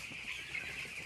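Broiler meat chickens in a crowded poultry house in Kamber, Kayseri, make a faint, continuous clucking murmur, a low, even flock hum with no talk.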